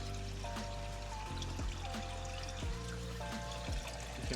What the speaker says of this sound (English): You can barely hear the water trickling down